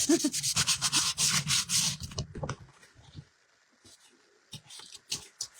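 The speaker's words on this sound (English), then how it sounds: "I have to take a little piece of sandpaper, and that should just get right rid of that." Sandpaper rubbed by hand along a stencil edge on a home decor piece, a quick run of dry scratchy strokes up close, then fainter scattered scrapes and light taps.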